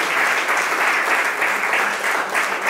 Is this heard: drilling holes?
no